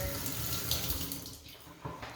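A sink faucet sprays water at decent pressure in a steady hissing rush, close by, easing slightly toward the end.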